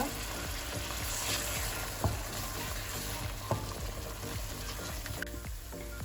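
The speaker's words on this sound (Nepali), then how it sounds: "यसरी पानी सुकेर तेल निस्केपछि मसला राम्रोसँगले भुटेको हुन्छ" Spice paste fries in oil for a parwal curry cooked with milk and mustard, giving a constant bubbling sizzle with occasional spoon scrapes and stirring clinks, close and uninterrupted by speech.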